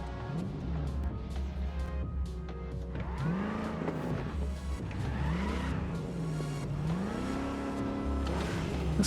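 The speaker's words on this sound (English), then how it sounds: "This car is not terrible." A car in Cyberpunk 2077 drives with a steady engine drone that rises and falls as it revs through gear changes, with tire squeals along the way, continuous and fairly close.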